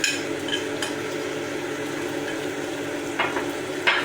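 Yogurt mixture frying and being stirred in a pot for biryani, a steady close sizzle with a few sharper scrapes of the spoon against the pan.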